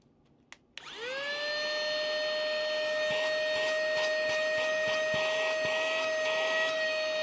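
A portable cordless vacuum cleaner switched on after a click, its motor whine rising quickly to a steady, close, high-pitched hum that continues to the end.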